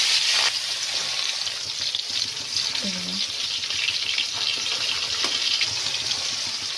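Marinated fish frying in hot oil for a fish curry with cauliflower and potato gives a steady, loud broadband sizzle that runs throughout, with a few faint clicks and knocks of the pan beneath it.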